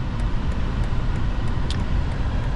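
BMW X7's B58 inline-six engine with ZF 8-speed transmission running on the road, a smooth, steady low rumble with road noise, close and even, without speech.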